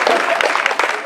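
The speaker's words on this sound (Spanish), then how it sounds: "Regalémosle un aplauso a ellos." Brief applause from an audience at a Farmer's Day celebration in Barro Blanco, Yolombó, honouring guests; a dense, close burst of clapping with voices mingled in, cut short.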